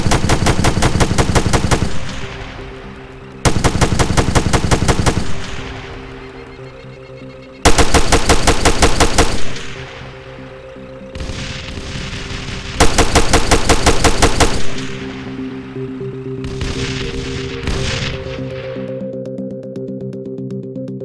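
Heavy weapon fire in the Arma 3 military video game, loud close bursts of rapid automatic shots, five or so long volleys separated by brief pauses, each trailing into echoing decay over a low steady hum.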